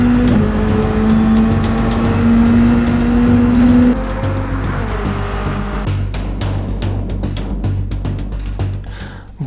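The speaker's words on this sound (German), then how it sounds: "Das ist der BAC Mono, das reinste Fahrerauto der Welt." A BAC Mono single-seat sports car drives by at high revs, its engine note climbing steadily and then easing off as gears change and the car moves away, with no talking.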